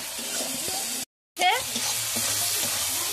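Snails and potatoes sautéing in oil in a pan, a steady close sizzle with stirring scrapes, briefly cut to silence before the frying resumes.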